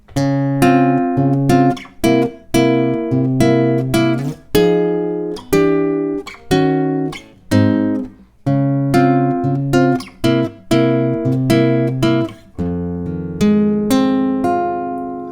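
A guitar plays slow, full chords of a song, each one struck and left to ring before the next, in a relaxed, evenly spaced rhythm.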